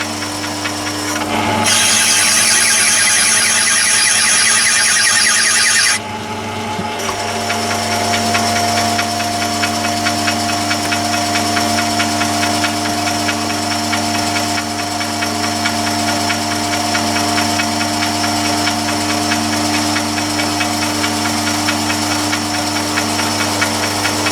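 A Myford lathe running for reverse-spindle screw-cutting: a loud, steady motor and gear drone with a constant mechanical hum, briefly joined by a bright whining tone early on, no talking.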